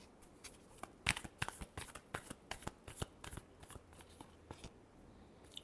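Tarot cards being shuffled by hand, a quick run of crisp, close riffling snaps and flutters at a quiet level, with no talk.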